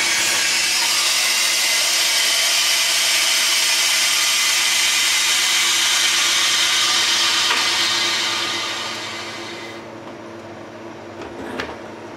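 Air rushes into a freeze dryer full of dried onions as its valve is opened, a steady, loud hiss that fades away over the last few seconds, leaving a few faint clicks.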